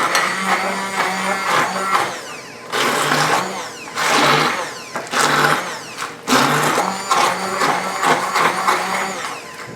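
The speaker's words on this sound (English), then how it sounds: "These emulsifier blenders are excellent for doing this job." Emulsifier blender whirring in a kitchen, running in several loud bursts with brief dips in pitch and short pauses between pulses, close up and without talk.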